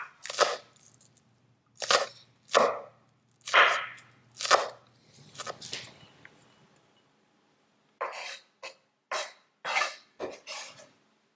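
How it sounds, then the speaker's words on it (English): Green onions being chopped with a knife on a board for hot noodles with sesame paste: a run of sharp, close knife strikes in uneven bursts, a pause, then another quick series of chops, with no talking. "we're just going to chop up the ends and finally chop it up"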